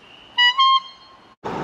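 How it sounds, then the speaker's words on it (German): A quad bike horn gives one clear, bright electric toot lasting about a second, close and loud, followed by a burst of rushing noise. "Oh, warte, wir müssen hupen."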